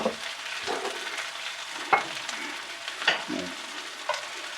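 Hot olive oil sizzles steadily in a pan on the stove, a continuous frying hiss broken by a few brief clanks and stirring knocks, close and fairly loud with no talk.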